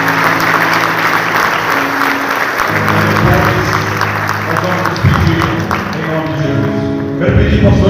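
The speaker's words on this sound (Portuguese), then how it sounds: "Vamos aplaudir o nosso Deus, em nome de Jesus." A church congregation claps loudly and steadily at a worship service, dense sustained applause with a voice speaking over it throughout.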